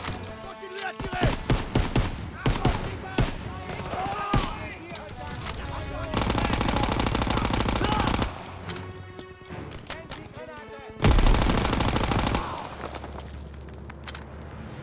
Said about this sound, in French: Continuez à tirer.